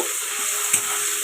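Thinly sliced potatoes seasoned with salt and turmeric fry in a pan, a steady bright sizzle with a brief stir or scrape near the end, close and alone.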